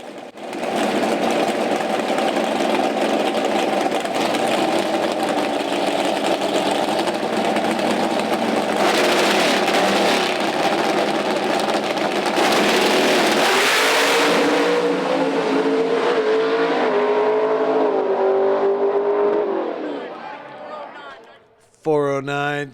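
Mountain Motor Pro Stock drag cars at a PDRA North vs. South Shootout, engines roaring loud and sustained as they launch and pull away, pitch climbing through the run before cutting off, with an announcer talking over it.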